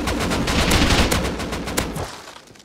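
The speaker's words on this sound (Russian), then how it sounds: "По кому он стреляет?" Rapid gunfire from the video game Rust: a dense, loud burst of shots that rattles on for about two seconds, then fades out.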